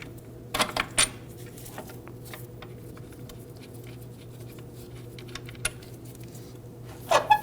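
Metallic clinks and clatter of strut bolts being removed from the front suspension of a 2013-2015 Subaru XV Crosstrek, a few sharp jingling taps at the start and end over a steady low shop hum.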